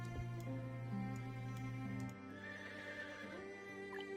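A game horse whinnies in a long, bright neigh over steady layered background music and faint clip-clop and ticking, in the settlement-building game Settlement Survival.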